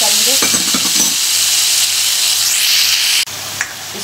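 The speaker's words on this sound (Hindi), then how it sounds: "इसको 2-3 मिनट ऐसे ही ऑयल में पकाएंगे, 2-3 मिनट तेज़ आंच पे" Vegetables stir-frying in oil over high heat for a shrimp and cabbage dish, a loud steady sizzle with scraping stirs near the start and a brief break late on.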